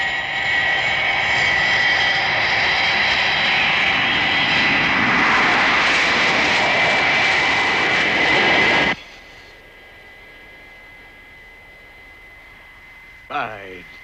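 A fixed-wing aircraft's engines roaring loudly and steadily during takeoff, then cutting off abruptly to a faint hum with a brief electronic warble near the end.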